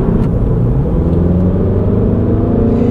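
A Mini Cooper S D diesel engine in sport mode drones steadily from inside the moving car, giving a low rumbling hum with a slight rise in revs and no talking.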